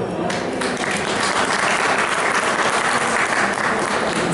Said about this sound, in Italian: un applauso ai pugliesi